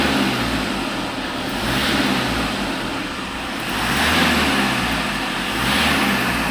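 A Toyota Innova engine being revved while its v-belt noise is checked gives a steady, loud mechanical roar with slow swells in intensity, no voices over it.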